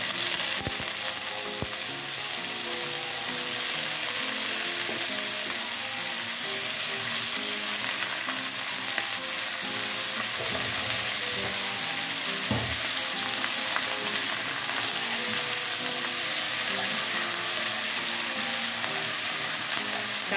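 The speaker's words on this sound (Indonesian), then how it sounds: "Setelah aromanya mulai harum, masukkan tomat dan labu siamnya." Tomato and chayote squash stir-frying in a pan, a constant close bright sizzle running the whole time, dotted with occasional clicks and a knock from the spatula, no voices.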